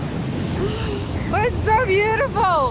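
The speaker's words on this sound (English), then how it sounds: "It's very, very hard to describe how windy it is" Strong wind buffets the microphone with a constant roar while surf pounds a rough Sardinian beach, a person speaking over the din near the end.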